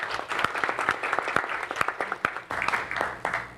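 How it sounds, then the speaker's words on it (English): A round of applause at a university student government senate meeting, scattered individual claps building into a moderate, uneven patter from a roomful of people, with faint voices underneath. "so can we do a round of applause?"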